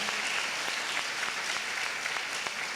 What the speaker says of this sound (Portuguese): Uma salva de palmas para esses legados.